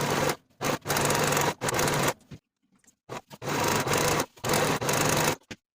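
A serger finishing the center front seams of a tie-front blouse, running in several loud bursts of steady mechanical whirring separated by short pauses, with no talking.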